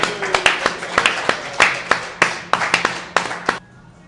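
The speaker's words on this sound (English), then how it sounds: "Big hand for R.J." Audience applause at a live sports talk show taping in a restaurant, a steady patter of many hands clapping with a few louder individual claps, fairly close, ending abruptly into quiet.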